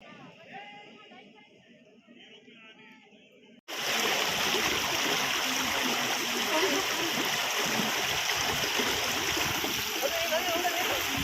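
Water flows strongly along a canal, heard first faintly under talking and then as a loud, steady rushing roar that fills the rest of the clip.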